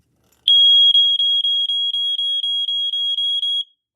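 A smoke alarm horn sounds in a close, loud, steady tone that pulses with rapid regular breaks for about three seconds, then cuts off, with no talk.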